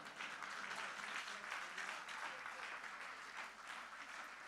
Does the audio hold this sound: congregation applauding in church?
yes